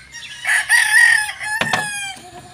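Gamecock rooster crowing once at a game farm, a loud, drawn-out call that rises and then trails off near the microphone, with no talking during the crow.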